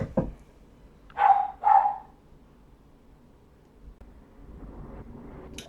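Dogs give two close, loud barks in quick succession, followed by quiet room noise.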